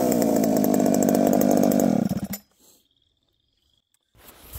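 A ported Husqvarna 394XP chainsaw revs loud and close for about two seconds, then cuts off abruptly into near silence before a faint rumble returns at the end.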